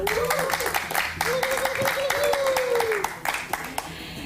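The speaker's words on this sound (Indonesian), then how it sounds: "Tepuk tangan dulu dong untuk sponsor kita hari ini" Applause from a crowd at a Ramadan charity event for orphans, fairly steady and dense clapping, with a voice talking over it and the clapping thinning near the end.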